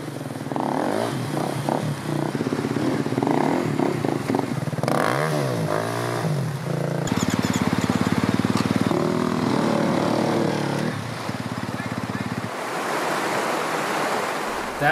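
Motorcycles churn through a rocky, fast-flowing jungle river in Guatemala, engines droning and revving under steady rushing water and splashing, with shifting bursts of throttle throughout.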